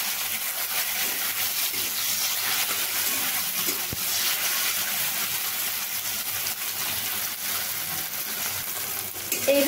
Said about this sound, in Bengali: কাঁচা লঙ্কা ও টমেটোগুলোকে আমি এইভাবে একটু ভেজে নেব